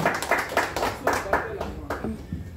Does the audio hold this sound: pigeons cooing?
no